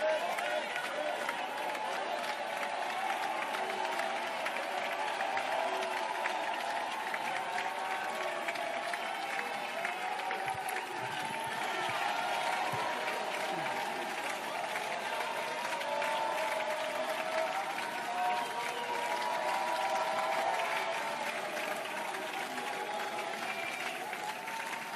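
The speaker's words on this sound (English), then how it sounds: "Thank you for the applause." Members in the National Assembly chamber during a debate on the State of the Nation Address keep up a long, even wash of applause that sounds somewhat distant and soft, with a murmuring crowd beneath it.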